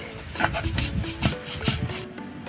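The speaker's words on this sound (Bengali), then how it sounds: "বাদাম আর এলাচ পোস্ত মগজদানা আমি এটা বেটে নিচ্ছি" Nuts, cardamom, poppy seeds and melon seeds being ground into a spice paste, a steady rasping, rubbing scrape repeating in quick strokes, close and moderately loud with no talking.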